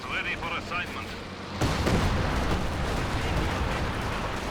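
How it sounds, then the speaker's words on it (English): An artillery barrage in Company of Heroes 2 erupts as a dense, continuous rumble of explosions. It follows a brief quieter stretch with faint tonal game sounds and stays loud to the end. "I hear Panzer Warfare barrage"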